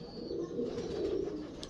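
A pigeon gives a soft, low cooing call, a brief murmuring burble heard quietly up close with no talking.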